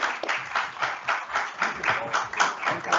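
A seated audience at a panel on tokenization and digital payments claps in a steady, moderately close round of applause, rhythmic bursts continuing throughout without speech over it.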